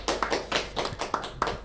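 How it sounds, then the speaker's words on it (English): A few people clapping for a guest at a talk-show style event, sparse, distinct hand claps in an uneven rhythm, close and fairly loud, with no speech. "Give him a round of applause."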